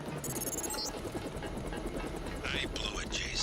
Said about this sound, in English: Locked on the chopper.